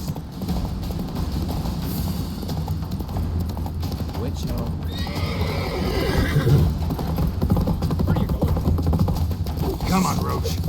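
Roach, a horse in The Witcher 3, gallops with a rapid clip-clop of hooves and gives a whinny partway through, mixed with game ambience and voices.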